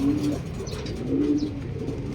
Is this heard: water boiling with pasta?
no